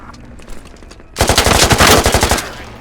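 Loud burst of rapid automatic gunfire in the military shooter game Squad, a steady run of close shots lasting over a second after quieter background game noise.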